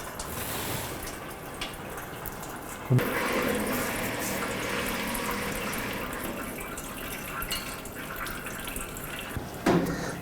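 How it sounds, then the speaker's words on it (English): Engine coolant drains from a 2007-2011 Honda Civic's loosened water pump into a drain pan below, a steady watery trickle and patter running continuously, with a couple of sharper knocks along the way. "You can see the coolant coming down."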